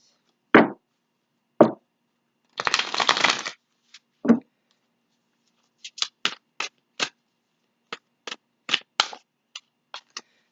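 Tarot cards are shuffled in a single noisy riffle, then drawn out one at a time with short, crisp slaps and flicks on a table, close and separated by brief silences.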